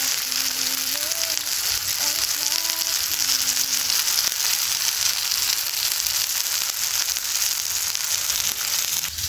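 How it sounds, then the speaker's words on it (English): Burger patties sizzle steadily in a pan, a dense, even frying hiss that runs nonstop for the whole stretch, with faint tonal background sounds drifting underneath. "as our burgers cook"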